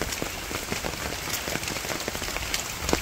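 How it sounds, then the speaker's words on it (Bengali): Steady rain pours down close by, a dense continuous patter on surfaces with no break. "দেখেন তো বৃষ্টির অবস্থা কি"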